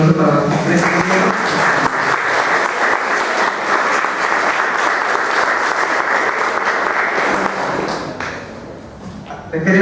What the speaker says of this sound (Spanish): Lo cual les pido un fuerte voto con los aplausos para los tres compañeros.